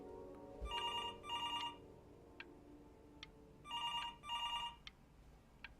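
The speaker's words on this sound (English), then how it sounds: "Someone answer the phone." A telephone rings in the video game Before Your Eyes, two double-burst rings repeated twice with short beeps between them, fairly loud and clear over a quiet background with no talking.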